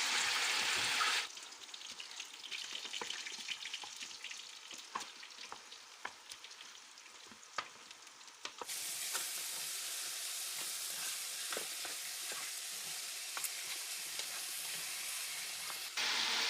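Chicken pieces fry in a hot pan with a constant bright sizzle and scattered pops and crackles. The sizzle briefly quiets, then returns louder and steadier, close up and with no voices.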